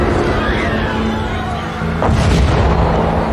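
A bomb explosion in the game Interrogation: You will be deceived, a loud deep rumbling boom that swells midway through a continuous heavy roar, with faint crowd-like noise beneath.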